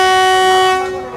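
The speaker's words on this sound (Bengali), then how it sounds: "ট্রেন এখন এসে পৌঁছালো" A train sounds a long, loud, steady horn as it pulls into Ghushkara railway station on the Howrah to Rampurhat line. The horn holds strong and close, then fades slightly near the end, with no talking.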